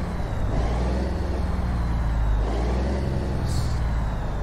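A heavy-haul truck in American Truck Simulator fitted with a Z Mods 34A DI engine sound mod rumbles loud and close with a steady, deep diesel drone, alone with no voices.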